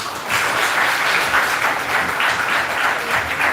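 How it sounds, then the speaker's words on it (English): Listeners at a medical conference on personalized medicine clap for a final-year undergraduate student, a dense, even burst of applause filling the short moment. "Please clap for him."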